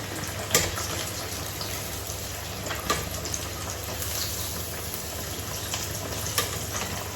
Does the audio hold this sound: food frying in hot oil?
yes